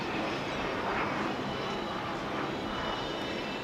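A de Havilland Vampire jet flies over an airshow, a loud continuous roar of jet engine noise that stays steady throughout.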